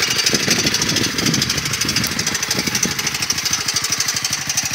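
A 1986 Honda Fourtrax 250 quad's engine runs loud and close, its steady, rapid knocking putter pulsing evenly throughout with no talk.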